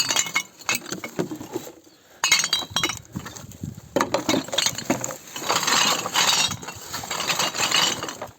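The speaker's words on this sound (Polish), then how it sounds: "Prawie samo szkło." Glass bottles clink and knock together as they are gathered into a sack while cleaning up litter under a bridge, repeated bright clattering bursts in irregular clusters, close and loud, with brief pauses between handfuls.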